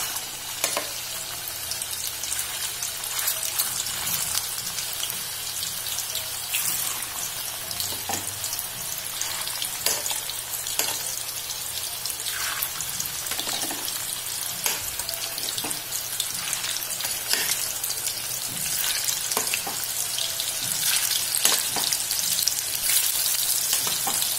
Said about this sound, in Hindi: तेल गरम हो चुका है, अभी मैं एक एक करके कोफ्ते डालती जाऊंगी।